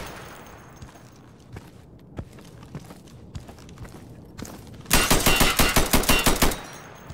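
A burst of rapid automatic gunfire from the tactical shooter Insurgency, a loud sustained string of evenly spaced shots near the end, preceded by scattered faint footsteps and distant single shots.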